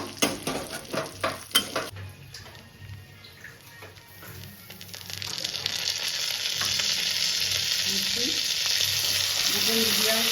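Prawns and green chillies go into hot oil for a Bengali chingri posto: a few sharp clacks and stirring knocks at first, then a loud, steady sizzle that builds and holds close up.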